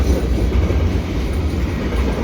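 Loud, steady rumble and roar of a passing CN three-engine mixed freight train at Dorval at twilight, continuous throughout with a deep low-end drone and broadband rushing noise.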